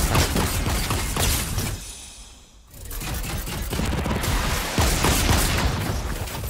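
Dense, continuous video game gunfire crackles loudly throughout, briefly thinning to a quieter dip midway before the rapid shots resume.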